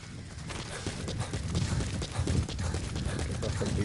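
Horse hooves clip-clop steadily at a quick pace in a stealth video game, a continuous rhythmic patter that stays fairly loud throughout.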